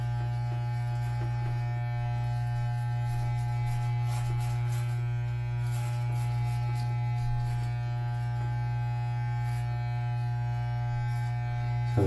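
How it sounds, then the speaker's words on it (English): An electric shaver buzzes steadily while shaving the sides of a head for a home fade haircut, a loud, continuous close-up drone with slight shifts as it moves across the hair. "So you just shave the sides of your head"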